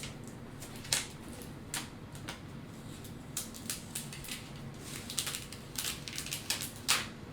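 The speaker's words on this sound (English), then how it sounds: "now let's see if I can peel this up and take everything with it" Vinyl decal being peeled slowly off its backing sheet for a trailer-themed design, heard as a series of soft, crisp crackles and ticks over a low steady room hum, close and fairly quiet, with no talking.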